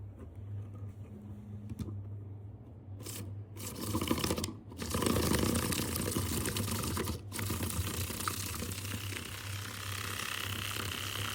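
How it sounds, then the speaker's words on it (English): Coffee with sugar and a dash of water is whisked in a cup, making a fast, continuous scratchy rattle close by, fairly quiet and with brief pauses between bursts. "Now we are going to whisk our coffee."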